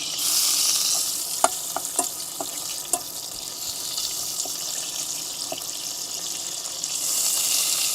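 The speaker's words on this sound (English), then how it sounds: "So what I'm gonna do is I'm obviously making bacon" Bacon fries in a pan with a steady, close sizzle and hiss, broken by a few sharp pops and crackles through the middle.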